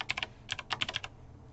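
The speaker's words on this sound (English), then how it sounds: "So we're going to start by typing their name." Typing a name on a computer keyboard: two quick bursts of crisp key clicks close to the microphone, separated by a short pause and trailing into quiet, with no talking.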